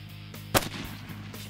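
A single sharp, loud crack from an airsoft or air gun, with a faint echo tail and a couple of softer knocks after it, against a quiet steady hum.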